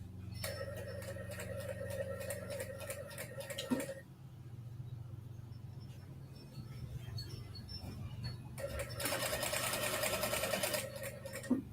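A domestic sewing machine winds a bobbin in two steady whirring bursts with a rhythmic mechanical chatter, pausing briefly in between, heard close and alone while stitching a large faux leather tote kit.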